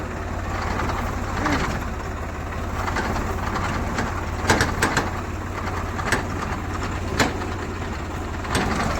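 A tractor engine idles near a field full of cattle, a steady low rumble running throughout, with a few sharp bird calls and brief knocks over it and faint voices now and then.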